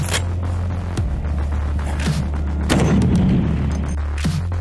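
A Snipex semi-automatic sniper rifle fires outdoors, a few sharp booming cracks spread across the stretch with rumbling echo and steady low background noise, no speech.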